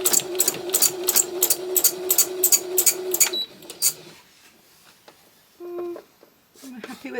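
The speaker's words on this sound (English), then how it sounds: "What's nice about free motion embroidery is the fact you can go backwards and forwards to create areas of interest." A domestic sewing machine stitches fast, rapid bursts of free motion embroidery on scrap fabric, then stops, leaving a few scattered clicks and brief machine noises, while a person talks over part of it.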